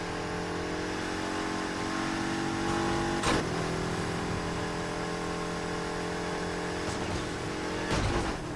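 A racing car engine roars and revs in the street-racing game Need for Speed: Heat, holding a sustained droning pitch with brief sharp impacts, like collisions or gear shifts, cutting through around the middle and end.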